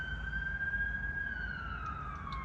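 An emergency vehicle siren wails steadily, a sustained gliding tone that slowly drops in pitch over a low traffic rumble, fairly near and alone without talk.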